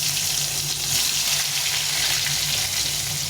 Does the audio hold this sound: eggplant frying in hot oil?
yes